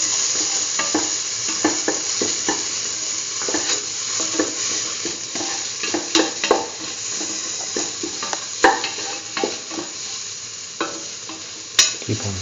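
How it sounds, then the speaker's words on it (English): Tomato mixture sauteing in a pan, a steady sizzle throughout with repeated scraping stirs and occasional utensil knocks against the pan, close and moderately loud with no talking. "Keep on sauteing."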